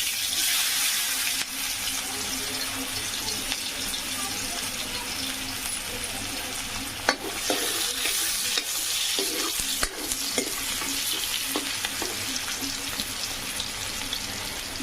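Onion sizzling in hot oil with green chili, a dense, loud, continuous hiss with a few stirring clatters midway, close up and without speech.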